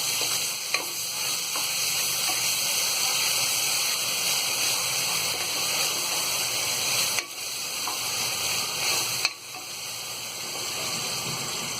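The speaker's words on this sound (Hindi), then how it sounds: "अब इसमें हम ये अदरक और लहसुन का पेस्ट डाल देंगे और इसे भी हम हल्का फ्राई कर लेंगे" Ginger garlic paste frying in a pan after the onions have browned, a steady close sizzle and hiss with occasional stirring scrapes, continuous throughout with no talking.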